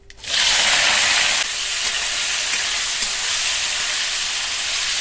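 Nigella seeds, green chilli and chopped tomato sizzle in hot oil, a loud steady frying hiss that flares sharply at the start and then settles into a continuous crackle with faint stirring.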